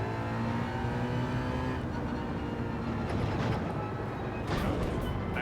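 Car engine in Gran Turismo 7, a steady droning roar that holds throughout with a slight rise in pitch near the end, close and continuous with no talking.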